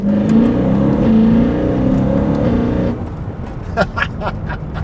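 A loud, smooth E91 BMW M3 wagon engine revs high and steady, then the pitch drops away with a quick burst of blips as it shifts down.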